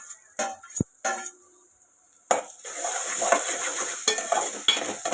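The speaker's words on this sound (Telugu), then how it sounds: "ఇలా ఆనియన్స్ అనేవి వేగిన తర్వాత మనం కట్ చేసి పెట్టుకున్న టమాటా ముక్కలను ఇందులో యాడ్ చేసుకుందాం." Tomato pieces drop into a pan of fried onions. A few metallic clinks and brief scrapes come first, then after a quiet moment a sudden loud burst of sizzling settles into steady frying hiss with occasional stirring knocks.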